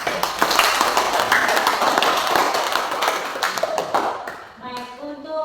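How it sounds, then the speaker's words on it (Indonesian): A group claps loudly and densely at close range, tapering off near the end while a voice begins over the last claps. "Tepuk tangan dulu untuk kelompok"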